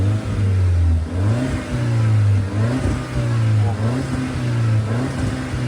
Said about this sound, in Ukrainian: Спробую погазувати на відео.